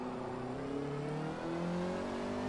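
Honda Civic Type-R touring car engine at full throttle in Forza Motorsport, a steady loud rising drone held throughout with no talk.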